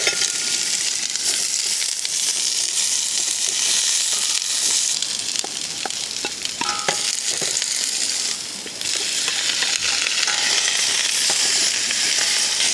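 Vegetables sautéing in a pan over a camp stove, a loud, continuous sizzle and hiss with occasional scraping and stirring, no voices present.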